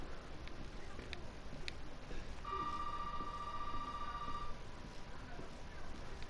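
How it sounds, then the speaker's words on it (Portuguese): A telephone rings in the horror video game Resident Evil 7, a single steady electronic ring lasting about two seconds, moderately loud over a dim ambient background with faint clicks. "esse telefone já toca"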